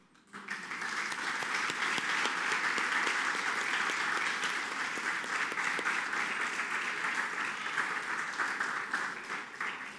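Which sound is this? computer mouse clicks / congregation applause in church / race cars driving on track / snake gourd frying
congregation applause in church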